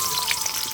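Chopped onion, with chopped ginger, sizzles in hot white oil in a kadai for egg chowmein, a steady close frying hiss with no speech.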